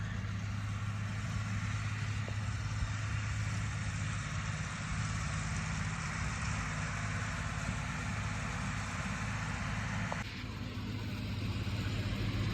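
A tractor pulling a round hay baler in a hay field runs as a steady, continuous engine drone with deep low rumble and a broad mechanical hiss, constant and fairly close throughout with no speech.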